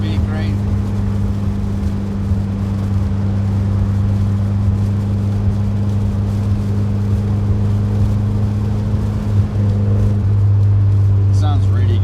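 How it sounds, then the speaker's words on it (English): A 1963 Karmann Ghia 1600 engine running at speed on a test drive, a steady loud low drone with constant road rumble throughout, briefly shifting near the end. "The car drives amazing, and it sounds really good as well."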